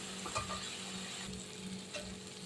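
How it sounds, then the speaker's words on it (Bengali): Masala paste for a koi fish kalia being stir-fried in oil in a pan, with a low steady sizzle and soft scraping strokes of a spatula, fairly quiet and without talk. "এবার মশলাকে সুন্দর করে কষাবো, তেল বেরিয়ে যাবে"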